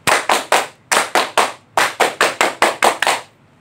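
Children perform a scout clap at a Pramuka opening, sharp unison hand claps in a patterned rhythm: three claps, a pause, three more, then a longer run of quick claps, loud and close with no talk.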